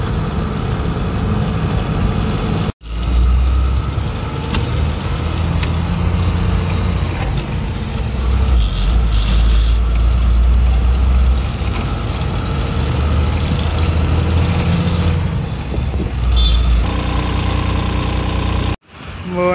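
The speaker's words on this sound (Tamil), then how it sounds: "அப்படியே வண்டி டிரைவிங் கண்டினியூ பண்ணுவோம்." Container truck driving at night, its engine a steady, loud low rumble and drone throughout, briefly cutting out twice, with no talk.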